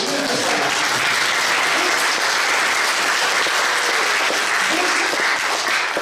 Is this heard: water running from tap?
no